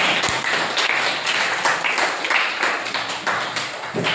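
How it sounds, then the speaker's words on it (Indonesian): A classroom of students claps together in steady, continuous applause that holds at an even level for several seconds, with faint voices mixed in. "beri aplaus untuk kalian semua"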